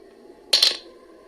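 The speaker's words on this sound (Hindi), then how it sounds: "अब ये हम ड्रॉप करते हैं ताकि ग्रैनी आए" A small hard object dropped in the video game Granny clatters onto the floor in a brief metallic bounce over a quiet steady background hum.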